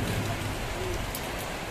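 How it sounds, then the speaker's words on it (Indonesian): Steady rain hisses across the whole stretch, a dense, even wash of drops with a low rumble underneath and no voices. "hujan-hujan kayak masih ya"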